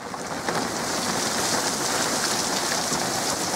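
Rain drums steadily on the shell of a velomobile ridden through wet weather, a dense, loud, continuous hiss and patter of drops close around the rider, with no talking.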